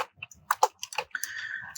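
Keystrokes on a computer keyboard typing out a short word, a quick irregular run of crisp clicks and taps close by with brief pauses between them, no talking.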